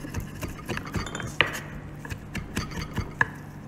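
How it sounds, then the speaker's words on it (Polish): A knife chops raw trout for tartare on a board, a close, steady series of quick taps with a few sharper clinks, no voices. "I jeszcze odrobinę przesiekamy."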